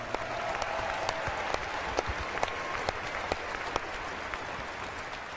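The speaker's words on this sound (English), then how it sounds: "So give yourselves a round of applause." Steady audience applause fills the space, dense clapping from a large crowd with a few sharper claps standing out, no talking over it.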